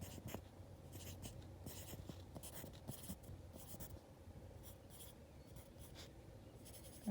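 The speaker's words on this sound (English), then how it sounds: "I'll draw that real quick for you so you can see it." A pen or pencil scratches across paper while a clock face is drawn by hand, with quiet, close strokes coming in short bursts over a faint background hum.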